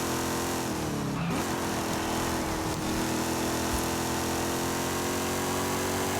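A Camaro's engine drones steadily through a driving lap in Forza Horizon 5, holding a constant, loud, even pitch with no talk over it.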